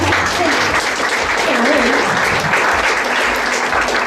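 Loud applause from a crowd, sustained clapping with a voice faintly rising above it partway through.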